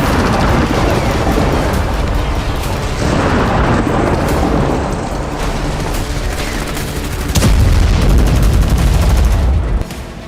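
Rocket and missile attack explosions in southern Lebanon: a dense, continuous roar of gunfire-like blasts and booms, loud and unbroken, swelling near the end.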